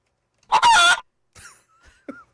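A chicken sound effect played from a radio show hotkey: a loud, brief squawk followed by a few softer, scattered clucks and chirps with silence between them.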